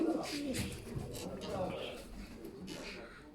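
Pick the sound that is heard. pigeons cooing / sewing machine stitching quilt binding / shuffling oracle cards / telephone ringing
pigeons cooing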